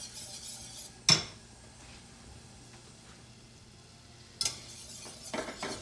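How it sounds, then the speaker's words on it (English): A spoon stirs bechamel sauce made with milk in a pan for lasagna: quiet scraping with two sharp clinks against the pan and a cluster of small knocks at the end. "Why you stir it all the time? Because you don't want the bechamel."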